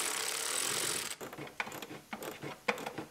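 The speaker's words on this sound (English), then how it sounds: "There's one last screw I can't get to with the electric ratchet, so we'll do it by hand." Electric ratchet driving bolts on a car heater core cover, a Pontiac Grand Am: a steady whir followed by several short buzzing bursts with pauses, close and fairly quiet.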